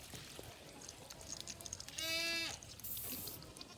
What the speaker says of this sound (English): She's always just been a really hardy goat.